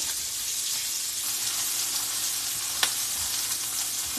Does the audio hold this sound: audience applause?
no